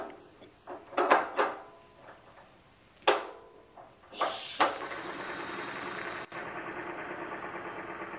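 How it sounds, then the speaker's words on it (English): A model steam engine running on compressed air, with a few scattered knocks and clunks at first, then a sudden start into a steady, close chuffing hiss that continues evenly to the end. "I run the engine on compressed air."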